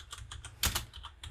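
Rapid clicking of a computer keyboard while a git branch command is typed in a terminal, a quick run of crisp keystrokes with a couple of louder taps in the middle.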